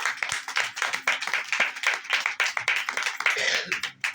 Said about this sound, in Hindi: उनके सम्मान में एक बार ताली चाहूंगी